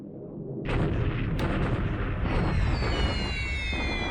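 Sustained rumbling combat in War in the Pacific: Admiral Edition as tanks attack a naval guard unit in 1943, with dense booming artillery-like fire starting abruptly and continuing loud throughout.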